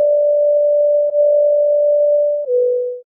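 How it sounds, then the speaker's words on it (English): A steady pure synthesizer tone from Pure Data amplitude-modulation synthesis holds one pitch, with two brief dips and a small drop in pitch near the end before it cuts off. Loud and alone, with no voices. "there at the beginning you hear the AM effect"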